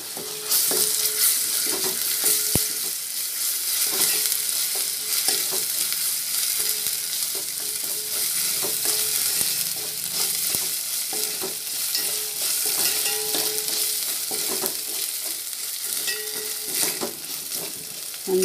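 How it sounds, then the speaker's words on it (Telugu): Ginger garlic paste frying with browned onions for a seeramenu fish curry, a loud continuous close sizzle with scattered spoon scrapes and stirring clicks throughout. "ఒక 1 టీ స్పూన్ అల్లం వెల్లుల్లి పేస్ట్ వేసుకోవచ్చు"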